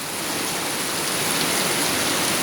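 Heavy rain pours down steadily over farmland in a prolonged downpour, a dense, continuous hiss with no pauses or voices.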